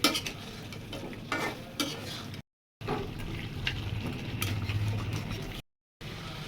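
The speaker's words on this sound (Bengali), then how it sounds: "টক দই দেওয়া শেষ ভালোভাবে লেড়ে দিতে হবে" Duck meat being stirred with sour yogurt in a pot, a steady scraping and sloshing stir with a soft sizzle underneath, close and continuous apart from two brief silent gaps.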